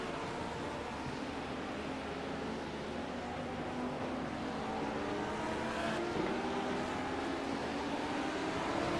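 A McLaren GT3 race car at Interlagos drones steadily at a distance, its engine note rising gradually over several seconds alongside other cars' engine noise, with no voices over it.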